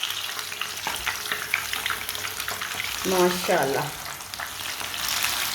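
Chicken frying in hot oil sizzles steadily while two spoons turn the pieces, with a brief louder burst of bubbling as the chicken is flipped; a voice speaks briefly.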